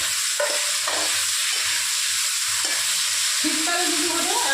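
Cumin paste, green chili paste and ginger paste sizzle steadily in hot oil for a thin Bengali fish curry, with an even frying hiss and intermittent scraping stirs close by.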